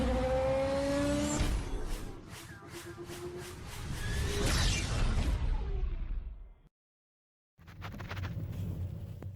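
A Jeep with a check engine light and reduced engine power on a test drive: the engine hums and rises as it accelerates with road and wind noise, then cuts briefly to silence before driving noise resumes.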